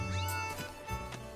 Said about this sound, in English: here's the little cat thing that we need to take care of